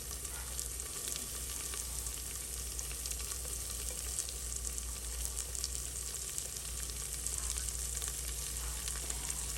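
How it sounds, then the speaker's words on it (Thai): Steady, dense sizzling of chopped green chili, carrot and long beans stir-frying in a hot pan, continuous and close, with faint stirring scrapes and no talking. "ผัดให้ผักสุกประมาณ 2 นาทีค่ะ"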